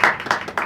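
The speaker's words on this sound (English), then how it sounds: "can we have a big round of applause to Mr. Claude Arpi?" Clapping from an audience at the close of a monthly talk-series meeting, short bursts of hand claps in a quick irregular rhythm, fairly close and moderately loud with no speech over it.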